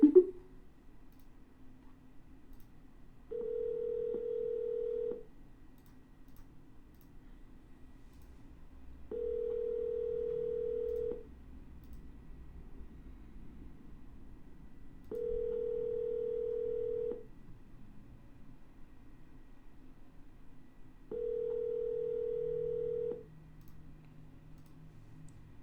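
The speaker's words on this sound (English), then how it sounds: "No answer, we're gonna double dial." A telephone ringback tone sounds in four evenly spaced bursts of about two seconds each, with quiet line hiss between them, as a call to a property seller goes unanswered.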